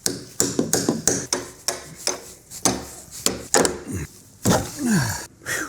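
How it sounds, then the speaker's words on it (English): A hammer and pry bar pulling nails from deck joists: sharp metallic taps and knocks on wood come in quick irregular bursts, with scraping and a squeaky creak as nails are worked loose. "Got a pry bar and a hammer, and we're gonna see if I can get these nails out"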